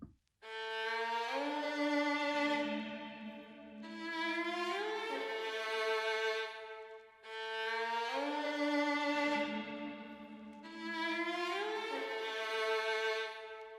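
A looping dark drill instrumental phrase with plucked Telecaster guitar answered by sustained bowed violin lines, repeating twice in a steady cycle, full and evenly loud.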